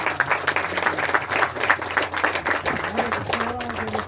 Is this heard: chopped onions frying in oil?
no